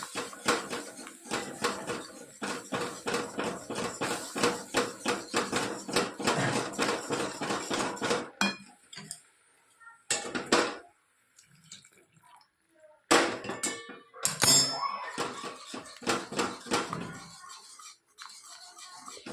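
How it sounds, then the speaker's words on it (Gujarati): A whisk scrapes rapidly around a pot as gram flour (besan) is stirred with hot water, quick rhythmic metallic strokes in long runs broken by short pauses and a few clinks. "વિસ્કરથી હલાવતા જવાનું."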